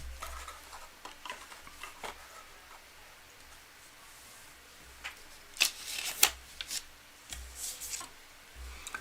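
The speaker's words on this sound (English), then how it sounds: "Let's shuffle up." A deck of tarot cards is shuffled by hand in a soft, continuous riffling patter, close up, with a few sharper snaps and bursts toward the end and no talking.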